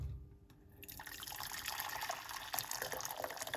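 Hot water is poured into a pot for making breakfast tea, a soft liquid stream that starts after a brief quiet moment and runs steadily at low volume, close by.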